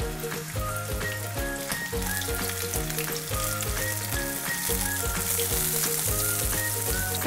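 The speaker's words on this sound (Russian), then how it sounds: "Обжариваем фрикадельки до румяной корочки, примерно до полуготовности." Steady sizzling of Swedish meatballs frying in a pan, constant and fairly loud, with background music playing throughout and no talking.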